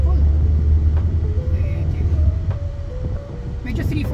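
A Honda BR-V carrying four passengers climbs a steep road toward Baguio at about three-quarter throttle, its engine a steady low drone with road rumble throughout, while people talk inside the cabin.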